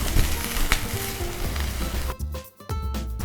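Hing, cumin, chopped ginger and green chilies sizzle loudly in hot oil in a pan while being stirred, a steady close frying hiss broken by a few brief scraping stirs near the end.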